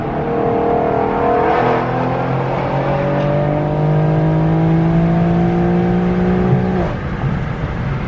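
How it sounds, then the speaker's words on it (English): A supercharged Dodge Magnum fitted with a Charger front end revs hard nearby, its rising engine tone climbing steadily over several seconds before cutting off, with a steady rumble throughout and no talking. "I heard a supercharger out of that car"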